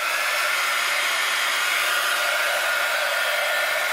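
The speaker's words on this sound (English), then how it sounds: "with the heat gun you just need to let it warm up for a few seconds" A heat gun blows steadily to set embossing powder, a constant close airflow roar with no break and no talking.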